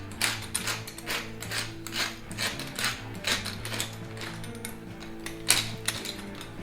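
A pepper mill grinds black pepper for German frikadellen meatball mix, giving close, steady ratcheting crunches that pulse in quick repeated bursts with no speech.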